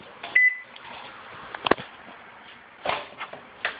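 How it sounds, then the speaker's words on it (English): Microwave oven heating tortillas topped with shredded cheese, with a short beep, a door or button clunk and a low background hum, followed by further clicks. "Pop it in the microwave just long enough to melt the cheese in about 30 seconds."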